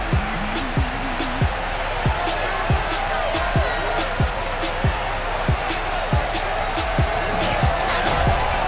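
Sold-out stadium crowd in the Madden NFL 22 football game, Patriots versus Bills, a constant loud roar with sharp thumping beats repeating at a regular rhythm throughout.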